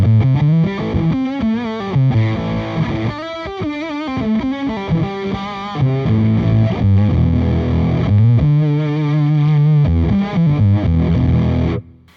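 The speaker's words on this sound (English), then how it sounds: "Let's do one more stacking option, which is the Velvet Fuzz into a cleanish Plexi-Drive." Electric guitar played through a Velvet Fuzz stacked into a cleanish Plexi-Drive pedal on its big setting: a loud, continuous fuzzy distorted riff of sliding chords and held notes with splatty low end, stopping abruptly at the end.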